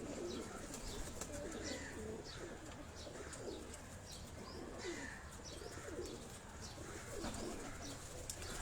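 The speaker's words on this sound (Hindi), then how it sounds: "ये कबूतर देखें आप" Kabuli high-flying pigeons on a Karachi rooftop coo and flutter against a constant outdoor hum, with soft chirps and occasional wingbeats scattered through the scene.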